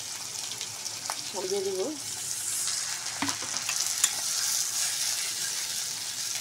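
Ginger garlic paste and onion paste frying in a pan give a steady, moderately loud sizzle with a few scraping clicks, while someone speaks briefly over it.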